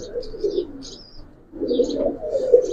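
Giribaz flying pigeons coo in two distinct bouts of soft, throaty, rolling calls, split by a short quiet gap, with light chirps above them. The birds are close and fairly loud.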